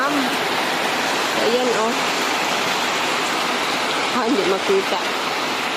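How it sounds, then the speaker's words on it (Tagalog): Heavy afternoon rain pours steadily on a farm, a dense, loud, continuous wash of water filling a drum, while a person speaks briefly over it. "grabe ng ulan"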